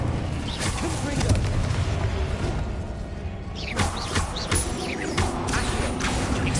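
Confringo blasting spell in Hogwarts Legacy on PS5 during a first boss battle: a dense stream of blasts and crackling impacts with repeated bursts, loud and close, amid busy game effects and a voice shouting spells.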